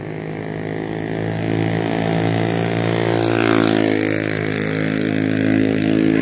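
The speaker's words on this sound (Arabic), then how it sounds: "ها هو موتور طوموبيل مرحبا." A car engine runs with a steady, harmonic drone that swells slightly as it revs, close by and continuous throughout.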